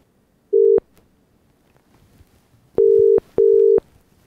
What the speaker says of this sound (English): So, Mark, we're just going to dial someone and then we'll patch them through